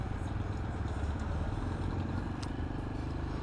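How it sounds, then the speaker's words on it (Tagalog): A 250cc motorcycle engine idles steadily nearby, a continuous low rumble with a fine rapid pulse and no voices. "since this is a 250cc bike"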